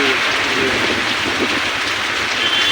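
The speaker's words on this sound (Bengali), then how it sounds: "বৃষ্টি পড়ি যাচ্ছে রে, যে হাওয়া বৃষ্টি" Steady rain pours down onto a parked motorbike with a dense, constant hiss, close and loud throughout, with faint bits of a voice in the background.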